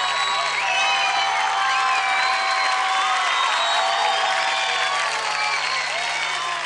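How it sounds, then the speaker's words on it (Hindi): Loud applause and cheering from a studio audience at a televised children's dance competition, dense and continuous from start to finish, with music or tonal sounds layered over the crowd. "एक बार जोरदार तालियां।"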